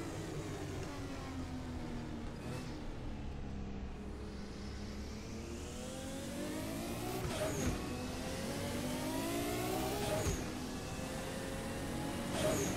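A turbocharged race car from the DRM Revival mod for Assetto Corsa drones at steady high revs, its engine note swelling through gear changes with sharp wastegate chatter bursting out at intervals, close and loud throughout.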